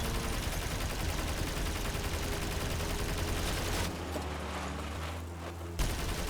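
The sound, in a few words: gunfire shooting at an enemy in a video game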